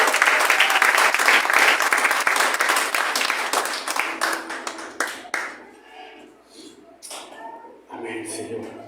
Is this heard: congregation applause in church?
yes